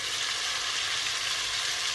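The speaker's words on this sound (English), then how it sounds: "المهم غادي نخليو القرعه ديالنا كتقلى" Zucchini fries in a pan with no added water, giving a soft, steady close sizzle throughout without any talking.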